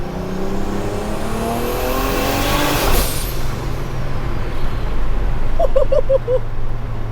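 A Toyota Hilux pickup with a swapped big-turbo 1JZ engine revs hard and echoes in a tunnel, rising then falling, with a brief hiss near the end.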